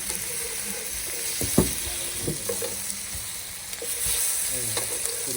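Fish frying in a pan during an outdoor cook-up with friends: a steady, close sizzle with a few sharp scrapes and clinks from stirring.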